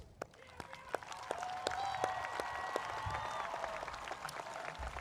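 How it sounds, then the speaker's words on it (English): Clapping from a crowd at a 2018 graduation ceremony, quick scattered claps building into steady applause that carries on throughout, with a faint tone lingering underneath. "have a round of applause to thank them all for their outstanding efforts"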